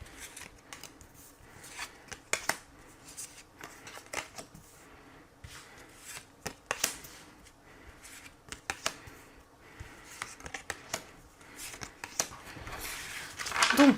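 Tarot cards being shuffled and drawn, with repeated soft riffling and sharp papery snaps in irregular bursts, close and quiet with no talk.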